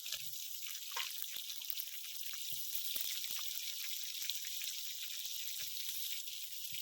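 Cut potatoes frying in a pan with green chillies for a Bengali fish recipe, giving a steady, soft, close sizzle with faint crackles and pops and no talking.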